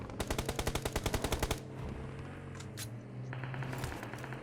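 Rapid automatic gunfire in a video game rings out in a tight, loud burst of about a dozen shots, then gives way to quieter scattered game noises and a low hum.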